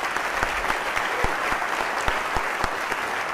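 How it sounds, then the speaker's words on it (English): Audience applause at a Catholic men's conference, a steady wash of clapping from a large crowd with a few sharper nearby claps standing out, loud and continuous with no talking. "Give those guys a round of applause."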